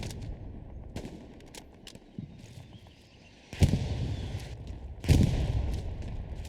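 Gunfire in the Hell Let Loose World War II shooter, with scattered sharp shots and two heavier, louder bursts of fire standing out against a busy battlefield background.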